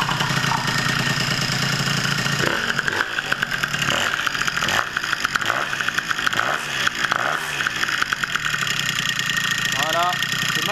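Small MBK 40T Doppler 50cc moped engine is kicked into life and then settles into a steady, buzzing idle up close, with someone talking over it throughout.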